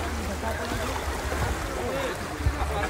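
A boat approaching across the water at New Digha, a steady low rumble and wash of water with a faint bump, moderately distant, without talk.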